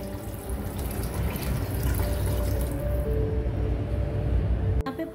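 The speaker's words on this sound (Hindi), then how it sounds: "अब मैं इसमें पानी डालूंगी" Continuous rushing splash of water pouring into a pot for chana pulao, steady and close, ending with a short clunk.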